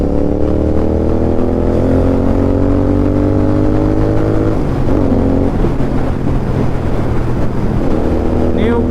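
Motorcycle fitted with a Red Rooster exhaust pulling hard under acceleration on a highway ride, a loud steady engine drone with rising harmonics, then a gear change and the engine climbing again, continuous and close.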